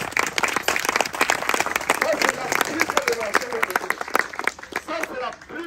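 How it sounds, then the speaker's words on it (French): A church congregation claps in dense, loud applause for the word of God, with scattered voices and crowd noise mixed through the steady clapping. "Applaudissez pour la parole de Dieu."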